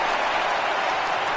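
Stadium crowd of about 33,000 at a Marlins at Pirates game in MLB 18 rising to its feet, a steady roar of cheering and clapping, loud and close for a brief moment with no talk.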